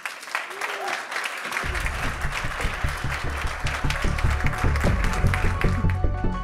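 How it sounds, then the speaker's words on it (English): Loud audience applause fills a conference hall at a solar power industry summit, steady and sustained, while a low music bed enters after the first second and carries on beneath the clapping. "Please give her a very loud applause."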